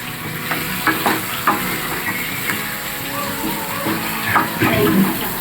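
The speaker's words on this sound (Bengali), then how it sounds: "এই প্রথম আজকে কাঁকড়া রান্না করছি" Crab cooks in a pan with a steady, moderately loud sizzle, punctuated by occasional scrapes and knocks of stirring and a watery bubbling undertone.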